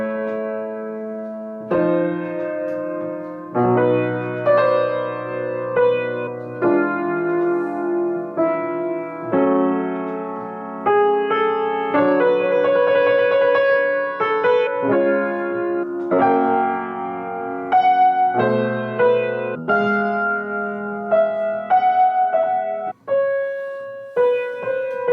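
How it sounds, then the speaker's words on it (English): Woodwinds play the opening motto theme of Liszt's Piano Concerto No. 2, a slow succession of sustained chords and phrases with clear pauses between them, alone with no talking. "So the motto theme we hear on the woodwinds right at the beginning of the piece,"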